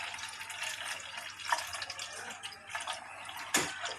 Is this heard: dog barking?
no